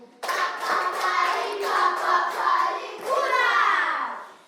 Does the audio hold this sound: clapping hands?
yes